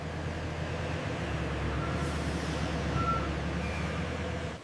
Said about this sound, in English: The transport truck arrives to collect the shipment.